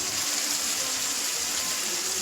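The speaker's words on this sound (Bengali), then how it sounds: "এই জলটা দিয়ে আমি নাড়া দিয়ে মশলাটা ছেড়ে দেবো।" Water pours steadily into a pot of meat and spices, a continuous close gushing splash with no pauses and no talk.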